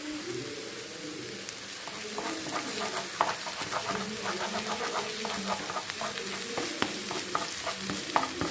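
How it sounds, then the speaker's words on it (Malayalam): Beaten egg scrambled in a hot frying pan beside beetroot, with steady sizzling and repeated scraping and stirring strokes of a utensil throughout, fairly close, with no talk. "ഇനി ഇതിൻ്റെ സൈഡിലേക്ക് 1 മുട്ടയൊന്ന് ഒഴിച്ചു കൊടുക്കാം. അതിനെ ഒന്ന് ചിക്കിയെടുക്കാം നമുക്ക്."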